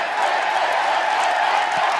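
Steady, loud crowd noise fills an arena during a Mexico City wrestling match, a continuous wash of cheering with scattered whoops and no break.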